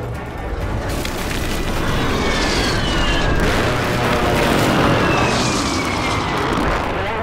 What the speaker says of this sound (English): Friendly airstrike in the air.